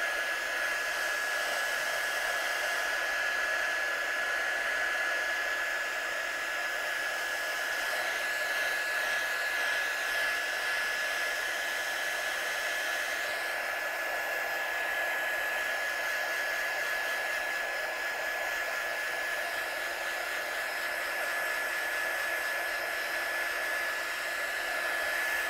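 Heat gun drying a stamped card panel in a craft studio, blowing as a loud, steady whoosh with a constant high whine that runs unbroken for the whole stretch, with no voices.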